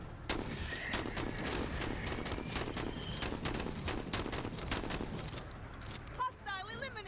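Gunfire in the tactical video game Menace: a quiet, rapid volley of sharp shots and clattering impacts running throughout, with a short electronic chirp near the end and a voice speaking faintly.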